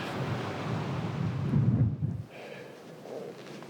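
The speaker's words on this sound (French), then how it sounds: "il y a pas mal de vent" Strong wind roars and buffets the microphone during a winter bivouac in the Southern Alps, a heavy rushing gust that swells, then drops away to a quieter hiss.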